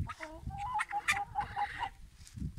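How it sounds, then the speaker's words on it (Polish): Chickens cluck in short, uneven bursts close by, a few soft calls overlapping against low background noise. "Idą jakieś kury w dołu."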